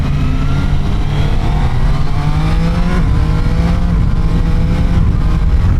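Engine of a Triumph Tiger Sport 800 motorcycle at highway cruising speed, a steady loud drone with rising harmonic tones as it pulls, continuous and close with wind rush throughout.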